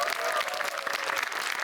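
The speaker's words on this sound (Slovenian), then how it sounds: "Bravo, en aplavz." An audience at a school cup-stacking competition gives steady applause, a continuous brisk clatter of many hands at moderate volume with a voice faintly present under it.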